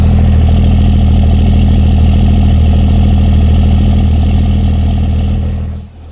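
A car engine idles through a muffler exhaust with a deep, steady rumble, loud and close, before shutting off near the end.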